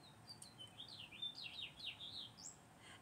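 A small bird chirps in a rapid series of thin, high tweets and trills, fairly faint and somewhat distant over a quiet low background hiss.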